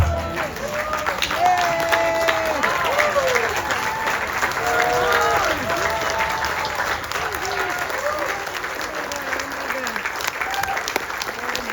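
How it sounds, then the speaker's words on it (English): Sustained applause from a standing audience honoring Vyaas Pandit Neval Ramdas at an outdoor Ramayan in the Park gathering, a steady dense wash of clapping with some crowd voices mixed in throughout. "Vyaas is standing ovation tonight"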